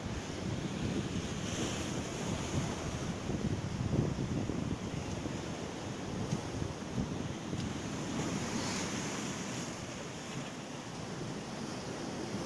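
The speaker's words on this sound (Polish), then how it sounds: "jest nareszcie jakaś ładna falka" Ocean surf rolls and breaks continuously on a beach, a loud wash of waves mixed with gusting wind across the microphone.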